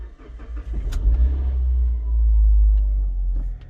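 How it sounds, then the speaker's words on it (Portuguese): A 2009 Suzuki Grand Vitara 2.0 4x4 with manual gearbox cranks and fires up, settling into a loud, close, steady low idle rumble with no talking. "Então deixa eu funcionar o carro aqui."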